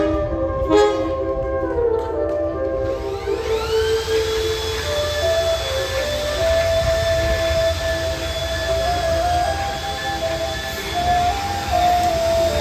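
The Kedung Sepur, a short three-coach locomotive-hauled train in Java, arrives at Gubuk station with a sustained mechanical rumble and drawn-out tonal whines, moderately loud and continuous with no talk.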